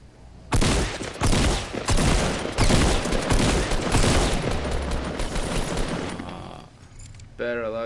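Heavy shotgun blasts in a video game boom out several times in quick succession, loud and close, with a voice talking over the shooting.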